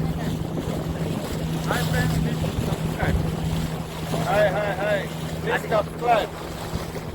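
A boat carrying thirteen people at sea hums with a steady low engine drone under wind buffeting and splashing water, while voices call out intermittently.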